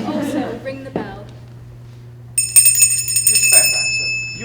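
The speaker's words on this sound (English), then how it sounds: "And you may also ring the bell." A bell rings on stage during a performance of The Importance of Being Earnest, a bright sustained ringing that starts partway through and lasts a couple of seconds, mixed with actors' speech and a steady low hum.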